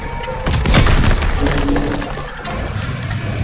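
Tiger tank cannon firing in Call of Duty WWII, a single loud booming blast with a crackling, shattering tail that fades into rumbling battle noise.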